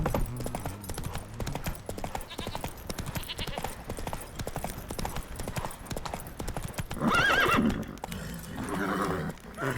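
A horse gallops in The Witcher III video game, with rapid rhythmic hoofbeats clopping steadily under game music, then a loud whinny near the end.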